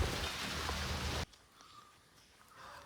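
Steady rain with a broad hiss, loud for over a second before cutting to much quieter patter that continues on its own.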